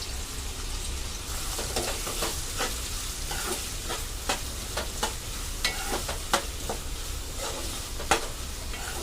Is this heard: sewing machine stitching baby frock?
no